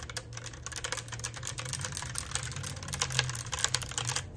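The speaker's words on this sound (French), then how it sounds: "Un clavier vintage. Je le kiffe. Écoute le bruit." Rapid, clacky keystrokes on a vintage mechanical keyboard, close and steady, with a low hum underneath and no voices.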